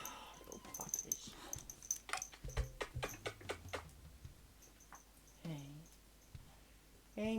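Several small puppies whimper and yip in soft, high cries scattered through the clip, with a brief low rumble and some nearby movement between the sounds.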